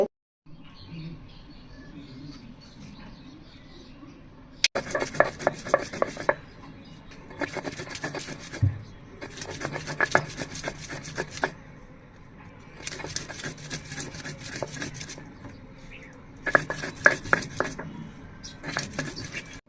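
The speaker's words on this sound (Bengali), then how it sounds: "এখন শিলপাটায় বেটে নিব" Rhythmic bursts of gritty scraping and rubbing as onions and garlic are ground on a stone grinding slab, repeating in strokes with brief pauses between.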